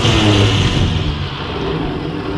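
An abandoned WW2 army truck engine, idle for 30 years and running on poor fuel, gives a loud, rough, continuous roar close by that eases off slightly partway through.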